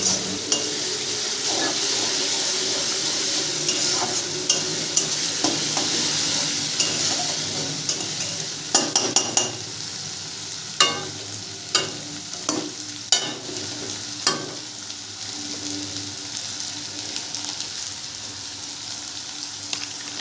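Ginger-garlic paste fries in a pan for a rohu and cauliflower curry: a steady soft sizzle with a spoon stirring and scraping, and a few sharp metallic clinks against the pan, with no talking.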